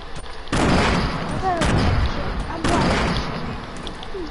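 Gunfire in a console shooter game: loud, close bursts of shots with booming thuds, hitting in clusters around each second, and a voice talking over part of it.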